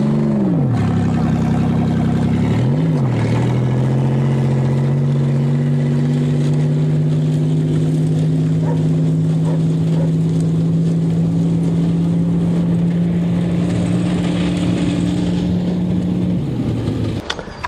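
Crushed Buick, flattened twice by a 20-ton dozer, with its engine running loud and close: a steady drone climbs and dips once as the throttle is blipped, then holds a long even idle before falling away near the end.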